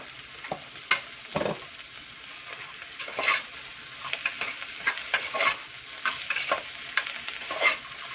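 Black chana, mint leaves and coconut fry in a single pot for a Brussels sprouts pulao, a soft sizzle broken by repeated spoon scrapes and stirring clatters at close range, with no voices.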